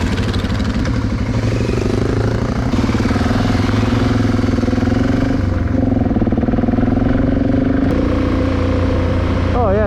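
A Suzuki DRZ dirt bike engine drones steadily and loudly on a trail ride, with the pitch rising and falling as the rider works the throttle, and there is some talk over it.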